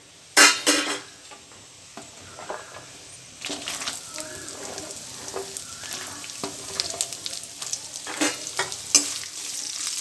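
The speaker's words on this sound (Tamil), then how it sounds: "லைட்டாக வதக்கிட்டு இப்போ நான் ஆனியன் சேர்த்துக்கிறேன்." Onions go into a pan with dried chilli powder for Pallipalayam chicken fry, starting with a few sharp clatters, then a rising sizzle with intermittent stirring scrapes.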